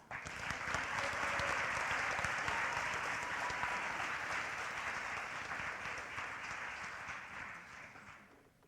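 An audience at the Sandy Valley senior awards for the class of 2025 gives dense, sustained applause for the valedictorian, swelling quickly, holding strong, then thinning and fading at the end.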